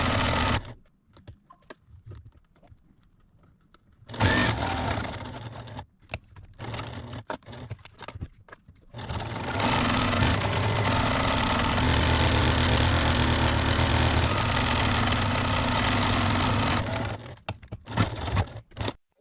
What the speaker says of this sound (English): I'm turning the ends to the inside and stitching it on both sides